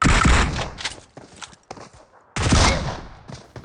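A DBS shotgun fires in the mobile game BGMI: two loud, close blasts separated by quieter clicks and footsteps, with sharp attacks and short decays.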